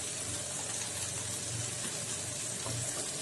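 Spices with a spoonful of Kashmiri red chili fry in a pan with a steady, even sizzle, close and continuous, with no talk over it.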